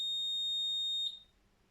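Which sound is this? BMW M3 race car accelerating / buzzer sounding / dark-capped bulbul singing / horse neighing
buzzer sounding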